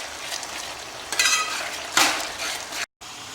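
Chicken sizzles in a pan with garlic and green chillies for biryani, a steady frying hiss broken by a few louder spatters and stirring bursts, ending in a brief dropout.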